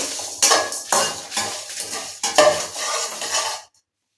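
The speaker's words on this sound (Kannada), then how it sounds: "ಇದನ್ನು ತಣ್ಣಗಾಗೋದಕ್ಕೆ ಹಂಚಿನ ಮೇಲೆ ಹಾಕ್ತಾ ಇದ್ದೀನಿ" Roasted garam masala spices for biryani powder are scraped and tipped from a pan onto another pan to cool, giving a series of loud, dry metallic scrapes and rustles in quick strokes before falling to silence.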